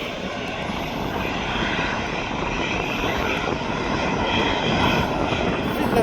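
An Aer Lingus airliner arriving at Birmingham Airport gives a continuous loud jet engine roar, steady and close throughout with no voices.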